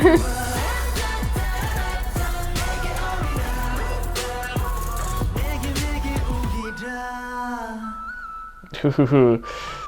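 An auto-tuned whistle rings out in a K-pop song, with bright high tones fading in and out above a driving beat that drops away near the end.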